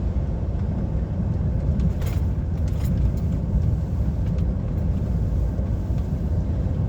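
Road traffic on the A82 in the Scottish Highlands near Fort William and Glencoe, heard from inside an HGV truck cab: a constant loud low rumble of engine and tyres on the road, with a few brief rattles and no talk.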